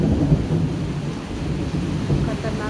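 Thunder rumbles continuously through a heavy rainstorm, a deep, steady roll under the constant wash of falling rain, loud and close throughout.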